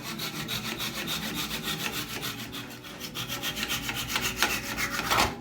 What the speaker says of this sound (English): finish it off with the saw